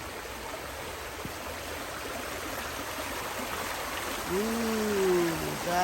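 A stream flows beside a woodland footpath, making a steady, broad rushing hiss throughout, with a brief tonal squeak or bird-like call rising above it near the end.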